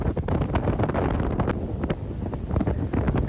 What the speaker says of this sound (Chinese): 海面的风还挺大的。